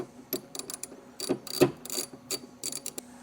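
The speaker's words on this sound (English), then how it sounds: "Use spanner tool, engage it in the teeth, and we're just going to tighten it down a little bit" Spanner tool engaged in the teeth of a Prodigy suspension joint during pre-assembly, tightening it down with a series of irregular ratcheting clicks and metallic snaps, close and fairly loud, with no talking.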